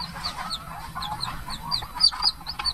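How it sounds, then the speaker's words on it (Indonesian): A brooding mother hen on her nest clucks softly in close, irregular bursts, mixed with high, thin peeping calls. "Kini induk ayam ini bisa fokus mengeram."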